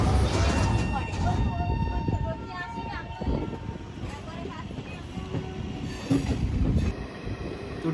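A passenger train on a rail journey rumbles and rattles along the tracks in a continuous loud roar, with thumps and brief wheel squeals, and voices talk faintly beneath the noise.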